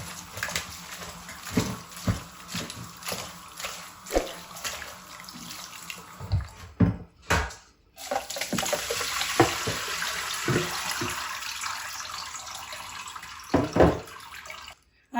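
Spinach washed in a fine-mesh strainer under a running tap in a home kitchen, with steady splashing water, intermittent pours and drips, and brief handling clatter, close and fairly loud.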